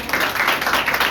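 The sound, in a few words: church congregation clapping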